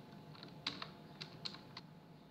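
Quiet keystrokes on a computer keyboard as a password is entered, about half a dozen light, separate clicks spaced irregularly over a soft background hiss.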